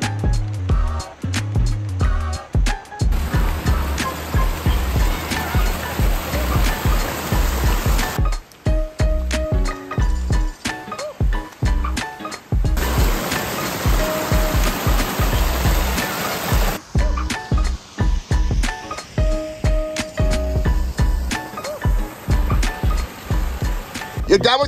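A large backyard waterfall water feature at a family home gives a steady, full rush of splashing water throughout, close and continuous, with scattered clatter and brief voices over it.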